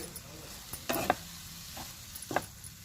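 Avalakki (poha) stirred in a pan over a low flame with salt just added, giving a few soft scraping strokes near 1, 1.1 and 2.4 seconds over a quiet background.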